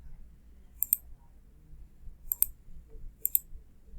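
Computer mouse clicking, three sharp, distinct clicks, close and clear, spaced a second or so apart over a quiet room background.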